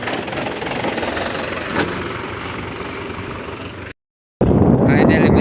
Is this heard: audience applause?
no